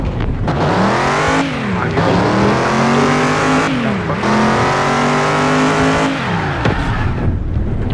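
Car engine revving hard, climbing in pitch through repeated rising sweeps and shifts, loud and close, with brief dips between pulls and no talking.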